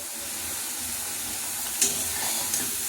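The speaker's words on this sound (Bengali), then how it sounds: "এইভাবে সব পুরিগুলি ভেজে নেব।" Green-pea kachori puris deep-fry in hot oil, giving a continuous bright hiss with a couple of small pops and no voices.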